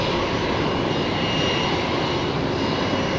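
A Boeing 737-800 at Brisbane Airport gives a constant, loud, broadband jet engine roar with a steady rumble and no variation, heard from fairly close.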